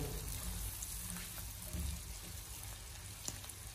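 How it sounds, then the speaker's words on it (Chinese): Pork belly stir-fried with sauce in a wok: a low, steady sizzle and faint hiss with occasional scraping, fairly quiet and heard on its own without talk. "这五花肉煸炒出油脂后"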